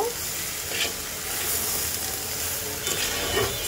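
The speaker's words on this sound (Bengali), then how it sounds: "তো চলো আলু আর সিম আর ফুলকপিটা ভাজা হোক।" Potato, flat beans and cauliflower fry in a pan with a constant close hissing sizzle, lightly scraped and stirred now and then, with no talking.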